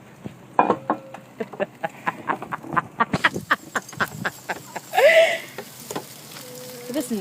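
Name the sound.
bird calling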